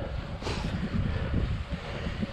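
Headwind buffets the microphone on a road bike ride, a steady, loud rumbling roar that swells briefly around the half-second mark and keeps blowing throughout, with no voices.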